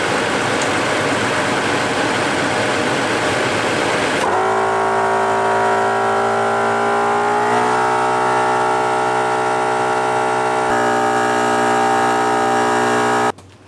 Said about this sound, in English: I'm gonna go ahead and connect to the compressor and see how fast it takes to get us to 36 on all 4 tires.